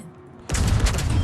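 A warship's guns open fire in World of Warships, a sudden loud booming salvo that breaks after a quiet moment and rumbles on heavily, close and powerful.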